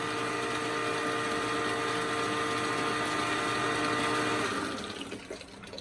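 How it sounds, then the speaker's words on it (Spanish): Water pump with damaged, worn bearings sucking water at strong pressure: a steady loud mechanical drone with whining tones and watery rush, easing off near the end. "la bomba está succionando agua a una muy buena presión."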